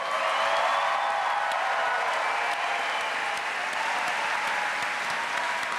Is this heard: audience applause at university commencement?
yes